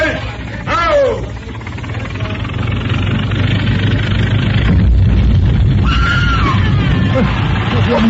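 A scream rings out in an old-time radio horror drama, a sharp wailing cry at the start followed by a loud, steady rumbling bed and a second shorter cry later.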